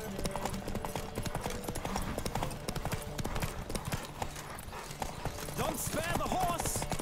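Rapid hoofbeats of a horse in The Witcher 3 pound in a fast galloping rhythm, with the horse whinnying near the end and voices talking over the running.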